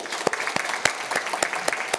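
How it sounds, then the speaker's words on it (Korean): Applause at a Korean church Sunday service welcoming a congregation member: a dense burst of clapping from the gathered worshippers, continuous with sharper individual claps standing out, fairly close. "우리 박수로 환영하겠습니다"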